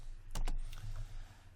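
A couple of quick computer keyboard key presses, close and crisp, tapped while modeling in Maya 2017, over a low steady room hum with no talking.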